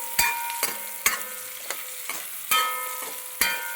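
A spatula scrapes and taps through avial vegetables such as yam frying in a pan, sharp strokes at uneven intervals over a soft continuous sizzle, with no voices.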